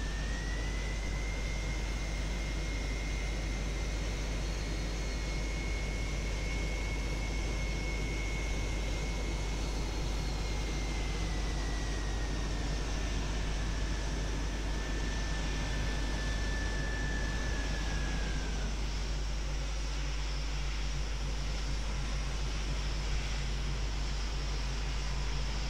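Boeing 727 in a flight simulator game rolling out on landing with reverse thrust deployed: a loud, steady broadband engine roar with a thin whine that holds and then drops away near the end, continuous throughout with no talk.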